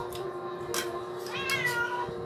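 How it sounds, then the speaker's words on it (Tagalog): A cat meows twice close by, each a short, rising cry, against quiet room background. "Yung pusa, miyaw na nung miyaw."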